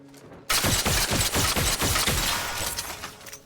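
A weapon in the Outer Worlds 2 video game opens fire in a sudden loud burst of rapid repeated shots lasting about two seconds, then trails off into rumbling echoes.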